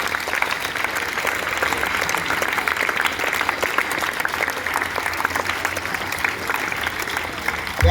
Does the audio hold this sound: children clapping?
yes